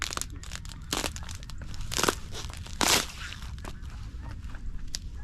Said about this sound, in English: It's like ASMR ice cracking.